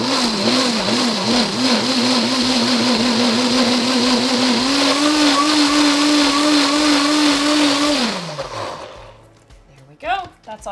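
A food processor pulses a green vegetable dip for a cheese platter, its loud steady whir running for about eight seconds before spinning down and stopping, followed by a faint clatter.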